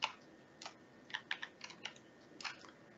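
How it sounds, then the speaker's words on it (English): Quick, irregular clicks of keys being pressed on a computer keyboard, close and fairly quiet, arriving in short bursts with brief pauses between them in an otherwise quiet room. "You can change colors by typing various keys to represent different color"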